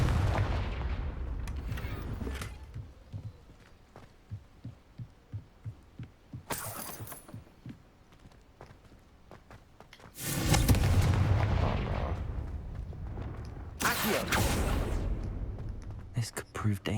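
Confringo fire-blast spell explosions in Hogwarts Legacy: several loud, sudden bursts spaced apart, each with a booming crackling tail, between quieter stretches of ambient game sound and a spoken voice.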